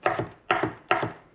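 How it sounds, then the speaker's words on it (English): A knife chopping peeled garlic on a cutting board: three close, crisp strokes at an even pace, each a sharp thud with a short scrape after it. "all we need to do is just a little bit of chopping here."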